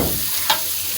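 Onions and green chillies frying in a pan for chicken kosha, a dense steady sizzle with one brief scrape of a spoon midway.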